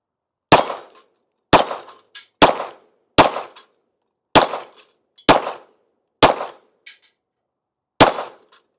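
Eight sharp, loud pistol shots from a Springfield Echelon fired at steel targets outdoors, spaced roughly a second apart, each with a short ringing clang and quick decay, with no talking.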